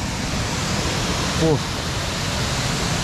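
The Cachoeira da Anta waterfall in Presidente Figueiredo roars as a steady, dense wash of falling water, with someone talking briefly over it.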